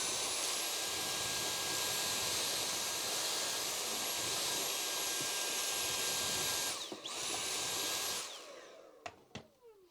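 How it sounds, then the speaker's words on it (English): Loud steady whine of a vacuum cleaner running close by, cleaning up drilling debris, briefly dipping once, then switching off and winding down into clicks and quiet. "And vacuum up the mess."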